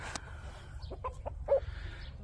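Several soft, short clucks from free-range chickens near a coop, spaced irregularly over a low outdoor background hum.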